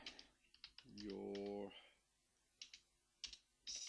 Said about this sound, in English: I'm just going to add some simple text and I'm going to type in here